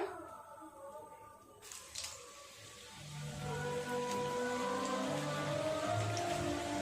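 Spring rolls fry in oil with a soft, steady crackling sizzle that grows fuller after a few seconds and keeps up evenly at low volume.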